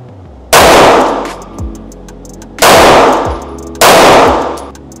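A SIG Sauer P365 Nitron Compact pistol is test fired, three loud, sharp, evenly spaced shots, each ringing out with a long decaying tail.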